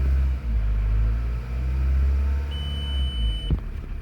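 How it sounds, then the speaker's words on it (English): A 2003 Volkswagen Jetta TDI diesel engine with an oil pressure switch problem, heard as a steady low rumble that swells as it revs, with a thin warning beep tone entering near the end. "start driving and or rev it up, and this happens"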